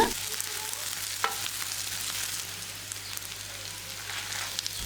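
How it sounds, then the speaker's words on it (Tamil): Dried red chillies sautéing in a pan for garlic chutney, a steady close crackling fry with a faint stir scrape near the start, no voices. "வரமிளகாய் சேர்த்ததுக்கப்புறமா ஒரு 30 செகண்ட் மட்டும் வதக்கி விட்டுருங்க."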